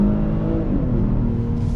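A Genesis G70 3.3T sedan accelerating on throttle in second gear, a loud, steady engine drone heard from inside the cabin, rising slightly in pitch over a short stretch with no talking.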